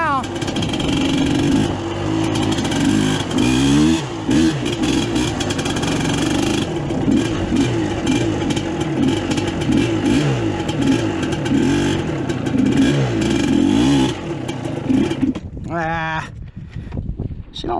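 A Suzuki LT250R ATV engine revs hard and continuously, loud and close, with rising and falling throttle sweeps and a rough, smoky two-stroke rasp, then stutters and drops away near the end.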